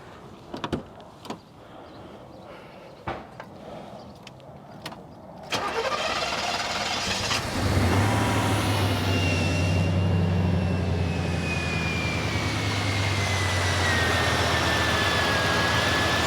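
A few clicks and clunks, then the engine of a Ferrari Testarossa replica car cranks and catches after being cleaned out, revving briefly before settling into a steady, smooth idle.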